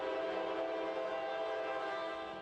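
A train pulling in after a six-hour journey carrying circus elephants gives a steady, moderately faint rumble with sustained tonal whine, continuous throughout without voices.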